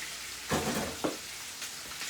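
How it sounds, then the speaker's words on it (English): Prime rib searing in garlic butter in a pan, a steady close sizzle with two brief louder bursts of crackling as the meat is turned, no talk. "we're searing it all the way around here, guys"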